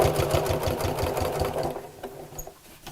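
A sewing machine stitches kraft-tex, a fast even mechanical whirring with rhythmic needle thumps for about a second and a half, then stopping, close by.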